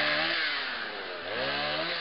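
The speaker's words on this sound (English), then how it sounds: "definitely going to use the chainsaw because it's a big one" Chainsaw cutting through a large fallen tree on a marten trapline in northern Manitoba, the engine roaring steadily and close, with a slight pitch dip as the chain bites into the wood.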